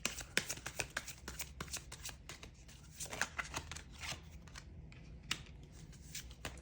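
Tarot clarifier cards are shuffled and pulled in a quick run of crisp, papery flicks and snaps, close and fairly soft, with no talking over them.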